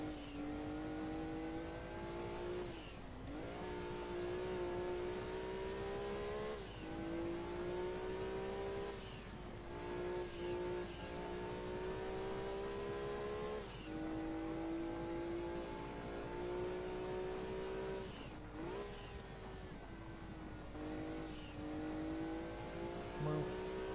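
Race car engine in Gran Turismo 2, revving high and climbing through the gears with brief dips at each shift, a continuous whining drone heard alone.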